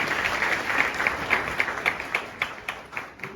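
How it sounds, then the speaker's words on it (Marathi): An audience applauds a poet at a college event, steady dense clapping throughout with a few louder individual claps standing out near the end. "एकदम जोरदार टाळ्या सरांच्या।"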